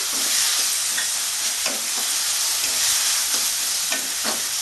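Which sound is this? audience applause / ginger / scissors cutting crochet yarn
ginger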